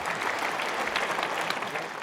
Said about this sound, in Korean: 우리의 전통 민속 문화를 오롯이 표현한 1시간 20여 분 동안의 공연은 관객들의 기립박수와 함께 끝이 났다